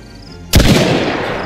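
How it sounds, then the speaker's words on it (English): A single loud, close gunshot in the game DayZ cracks sharply and then booms out in a rumbling tail that fades over about a second. "I just shot. I think I missed."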